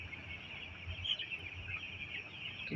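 Young broiler chickens kept in a shed during winter, giving a faint, continuous chorus of high peeping and soft clucking heard from a distance, with no talk.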